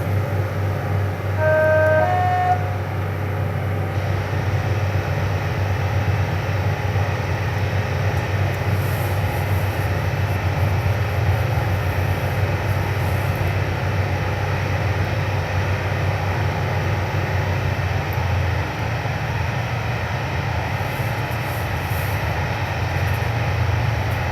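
A train in Train Simulator 2017 runs through a long tunnel on the Darlington to Bishop Auckland line, giving a continuous loud low rumble and engine drone with a few brief tonal beeps near the start.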